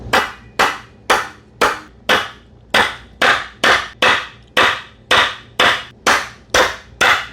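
Black Canyon 1/2 inch S2 hand impact screwdriver with a Phillips bit is struck by a hammer in about fourteen loud, evenly spaced sharp blows at close range.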